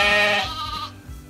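Welsh Mountain ewes and lambs bleating inside a lambing shed, one loud, close, wavering bleat fading out as lower calls carry on faintly in the background.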